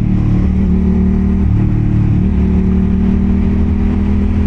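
Aprilia RS 660 motorcycle engine while lane splitting through commuter traffic, a loud steady drone with small pitch shifts as the throttle changes, heard close up with constant wind noise.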